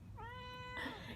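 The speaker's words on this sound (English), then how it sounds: "my cat is very noisy" A house cat gives one drawn-out meow with a rising-then-falling pitch, close by and fairly loud in a quiet indoor room, ending in a harsher, noisier tail.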